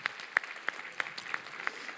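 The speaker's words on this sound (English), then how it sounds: "let's just give a hand clap for that." A church congregation at a family worship service claps in a light, rhythmic pattern of distinct, fairly soft hand claps, with no talk over them.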